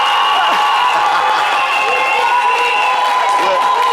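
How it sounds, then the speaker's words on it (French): A studio audience on a French midday show, Le Mid'Yves, claps steadily for a contestant. The applause is loud and dense and holds for the whole stretch, with crowd noise and tonal music or voices layered on top. "Applaudissez pour elle!"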